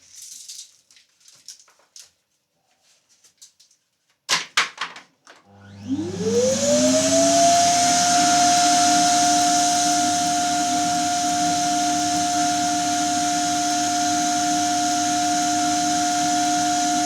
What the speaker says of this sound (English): We get the vacuum.